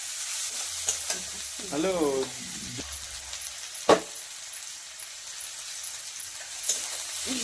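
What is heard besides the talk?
stirring and frying garlic in a pan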